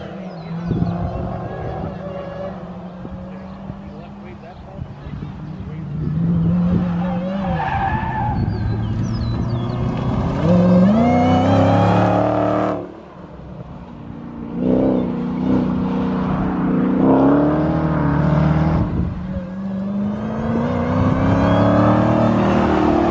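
Dodge Hellcat race cars on a road course, engines revving and tires squealing as the pack rolls toward a green-flag start, loud and continuous with rising surges, people talking over it.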